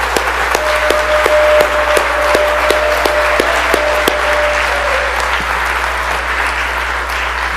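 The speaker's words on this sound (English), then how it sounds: "Let's give them a round of applause." Audience in a state House chamber applauding, a dense burst of clapping that stays loud and close before gradually thinning out over several seconds, with no voices over it.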